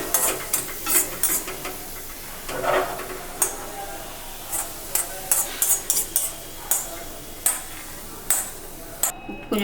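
Pirandai, veld grape, being sautéed in a pan for thuvayal, with a soft steady sizzle under repeated sharp scraping and clinking strokes of a stirring spoon at an irregular rhythm.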